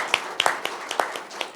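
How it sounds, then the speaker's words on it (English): A small group claps steadily, with sharp individual claps standing out over a dense patter of applause. "Give them a round of applause."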